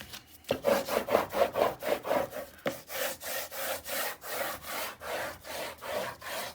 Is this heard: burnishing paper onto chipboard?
yes